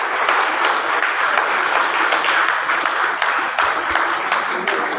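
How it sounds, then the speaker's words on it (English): A large audience at the Bangalore Tech Summit 2021 gives sustained, dense applause, loud and steady from start to finish with no other sound standing out. "let's give a huge round of applause, an extra round of applause"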